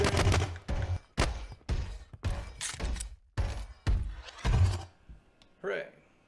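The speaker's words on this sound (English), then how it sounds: "So we can shoot him." Pistol shots ring out in a Unity third-person shooter game demo, a rapid string of about eight loud, sharp reports spaced roughly half a second apart, ending with a brief softer synthetic effect.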